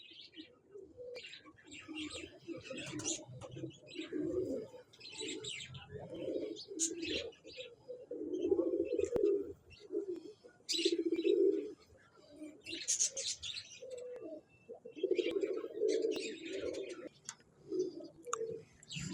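Parwazi flying pigeons coo in repeated low, throaty bursts with scattered chirps and clicks, fairly close in a pigeon-keeping loft, while voices murmur faintly in the background.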